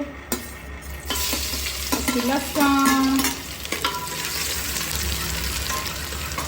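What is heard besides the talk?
asafoetida tempering sizzling in hot oil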